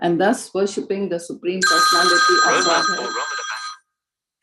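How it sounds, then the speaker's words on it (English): A mobile phone rings with a loud, sustained electronic tone starting partway through, first overlapping a man reading scripture aloud, then sounding alone for about two seconds before cutting off. "That was my phone."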